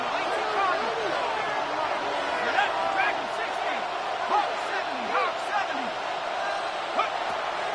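A football stadium crowd at an NFL game roars steadily during play deep in the red zone, a dense sustained din with scattered shouts beneath a commentator talking.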